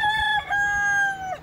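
A rooster crows once in a single sustained call with a bright harmonic tone that dips and breaks near its end, loud and close, with no other sounds around it.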